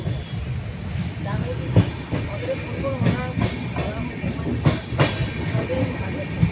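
A passenger train runs on rails with a continuous rumble and periodic clicking, heard from on board, while people talk nearby.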